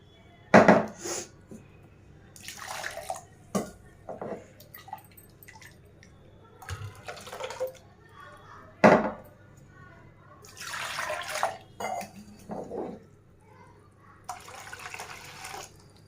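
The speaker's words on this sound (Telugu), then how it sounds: "మీకు ఎంతైతే కావాలో అంత వాటర్ యాడ్ చేసుకోనండి" Water is poured and splashes into a cooking pot holding ground sesame paste in several short, separate bursts, with quiet pauses between them.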